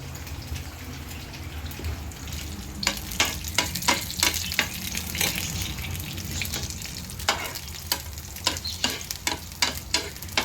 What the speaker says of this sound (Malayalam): ഇനി നമുക്കിത് താളിച്ചിടാം